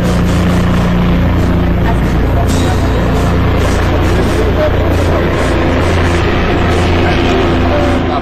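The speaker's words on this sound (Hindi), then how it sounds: "आप देख सकते हैं कि वो है हेलीकॉप्टर जो तमाम वो दिल्ली दर्शन कराएगा" A helicopter used for Delhi sightseeing tours makes a loud, continuous roar of rotor and engine that fills the whole stretch, with a voice partly buried under it.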